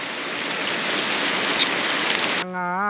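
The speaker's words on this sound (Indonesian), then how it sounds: "Kita berteduh dulu. Hujan ya, aduh." Rain falling in a river-upstream jungle forest, a dense even hiss of steady rainfall all around, continuous and fairly loud with no voices.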